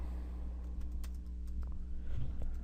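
Typing on a computer keyboard while writing game code: a quick, uneven run of light key clicks over a low background hum, with no talking.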